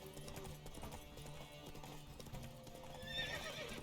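Horse hooves clip-clopping at a trot in The Witcher 3, a steady rhythmic patter over game music, with a faint whinny toward the end and no talk.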